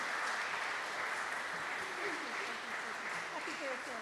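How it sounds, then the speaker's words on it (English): Applause from a congregation at a worship service, steady and continuous, with voices talking underneath toward the end. "one more round of applause for these beautiful people"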